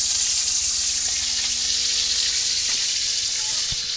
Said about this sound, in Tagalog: So prito na lang dito guys.